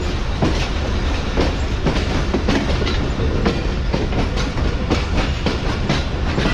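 Aboard the Subak Raftar railcar travelling from Rawalpindi to Lahore, the wheels beat a loud, steady clickety-clack over the rails beneath a constant rumbling roar, with no voices.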